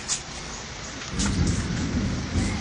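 Steady rain pours down while a deep rumble of thunder rolls in and lingers close by, with no voices.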